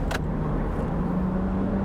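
BMW Z4 sDrive23i E89 roadster being driven, a steady low engine and road drone heard from inside the car, with a brief mechanical click near the start.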